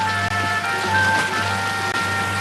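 Steady rain falls and patters on surfaces outdoors, a continuous close hiss with a low hum beneath it and no voices.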